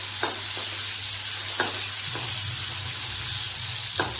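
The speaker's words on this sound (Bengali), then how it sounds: "এভাবে চিংড়ি মাছগুলোকে ফ্রাই করে" Prawns frying in a pan while a Bengali chola dal curry with chicken is prepared, giving a steady close sizzle with a few soft stirring clinks and no talk.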